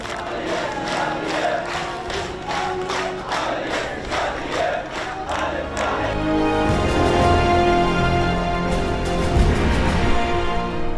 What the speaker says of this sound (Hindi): जो लोग लाशों को दफनाने आए थे वो तालियां बजाकर नारे लगा रहे हैं